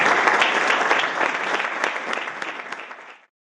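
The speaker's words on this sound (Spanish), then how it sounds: "un aplauso para la mesa" An audience at a talk on soy monoculture, coloniality and junk food gives the panel a round of applause. Dense, steady clapping runs for about three seconds, then cuts off abruptly into silence.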